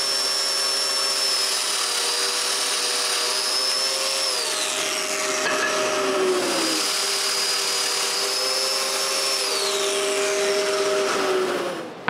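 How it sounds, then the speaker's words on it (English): A power drill whines steadily and close up, its pitch dipping and rising as it bores mortises into walnut wood, running without pause. "mark where I need to drill some mortises,"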